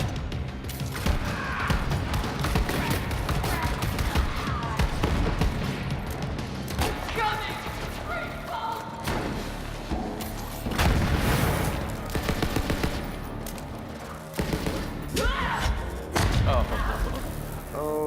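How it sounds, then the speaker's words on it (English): Combat in Borderlands 3 where a radiated enemy dies and explodes, spreading radiation: dense, continuous thumps, booms and gunfire bursts at steady high loudness, with a voice talking over the chaos. "If a radiated enemy dies, he'll explode and radiate the enemies around him."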